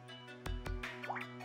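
A water-drop notification tone on a Redmi 9 smartphone running MIUI 12: two crisp plinking drops followed by quick bubbly rising blips, soft and close over a faint steady hum.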